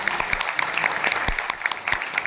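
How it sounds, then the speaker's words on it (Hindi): Audience at a Gwalior photographers' association event for World Photography Day applauding, a brief burst of many hands with a few sharper individual claps standing out. "जिनका जोरदार तालियों से स्वागत किया जाए।"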